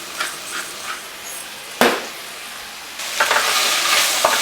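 Sausage with onions and peppers sizzles in a pan while a utensil stirs it, a steady hot hiss broken by a sharp scrape near the middle and louder stirring toward the end.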